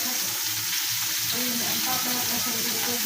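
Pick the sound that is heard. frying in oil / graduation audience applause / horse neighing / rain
frying in oil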